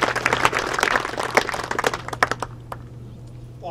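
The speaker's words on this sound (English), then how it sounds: "Let's give Bob a big round of applause." Audience clapping and applauding at a rededication ceremony for the Ned O'Brien ice rink, a dense crowd of claps that thins out and fades after a few seconds, with a steady low hum beneath.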